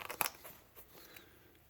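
Flint knapping, pressure flaking along a stone edge: a few quiet, crisp crunching snaps close by, the sharpest near the start and a couple of softer clicks after, in a quiet room.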